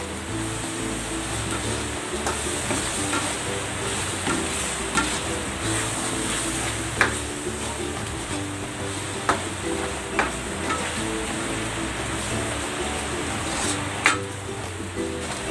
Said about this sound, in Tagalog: Ilalagay ko na itong siling green at ang labuyo para may konting anghang.